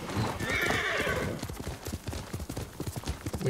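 A horse in Ghost of Tsushima lets out a loud, close whinny, then its hooves clop in a quick, uneven rhythm.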